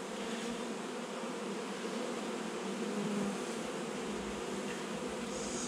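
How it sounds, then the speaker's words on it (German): Honeybees from a swarm being handled by a beekeeper hum in a steady, dense drone throughout, close and continuous with no talking. "Die restlichen Bienen, die müssen jetzt auch weg."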